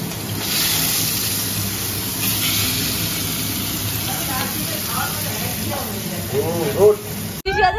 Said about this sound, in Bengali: এই যে মাছ ভাজা হচ্ছে এখন